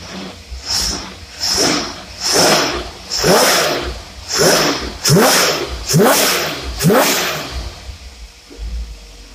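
Holley marine boat engine on a dyno, revving in repeated loud bursts about once a second, each pull rising in pitch then falling back, with no talk over it.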